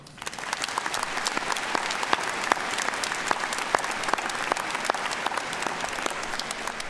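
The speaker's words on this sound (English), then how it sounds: "Please give them a round of applause." Audience applause at a college commencement ceremony, a large crowd clapping in a sustained, even wash with scattered sharper claps standing out, lasting about seven seconds.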